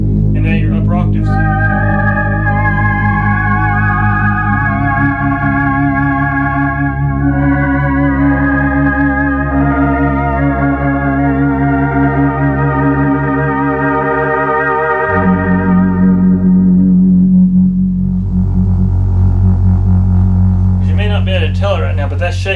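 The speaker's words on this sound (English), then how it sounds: "Just this bass tone that you can get out of this bass filter." Polymoog 280a synthesizer with its bass filter engaged plays a thick, sustained bass tone under held upper chords, steady and loud throughout, with the chord shifting partway through.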